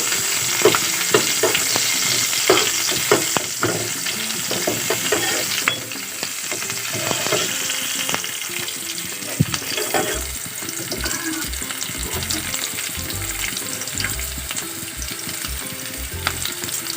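Onions and a bay leaf fry in hot oil in a wok until reddish, a continuous sizzle with repeated stirring scrapes and occasional spoon taps, close and steady, with a faint sound of running water from a tap.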